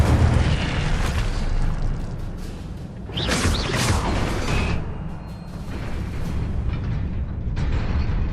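A fire spell cast in the Hogwarts Legacy video game: a whooshing burst of flame with a crackling roar over a constant layer of game sound effects and rumble, loud and close.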